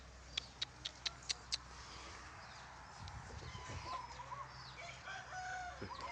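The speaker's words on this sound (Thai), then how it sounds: "ไก่ตีครับ" A rooster crowing around a rural Thai house, a quick series of sharp repeated calls early on, faint and somewhat distant, followed by softer clucking and chirps from fowl in the yard.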